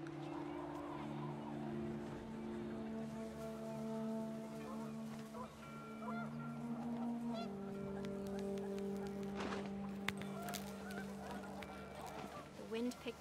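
Geese honking in What Remains of Edith Finch during a windy outdoor scene, a flock's layered nasal calls rising and fading over steady wind and soft background music.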